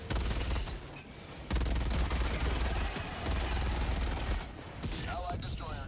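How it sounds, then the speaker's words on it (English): Mortar fire booms in the video game Helldivers 2 amid dense, rapid gunfire and repeated heavy blasts. The battle noise is loud and continuous, with brief lulls and faint voices underneath. "Oh, the mortar."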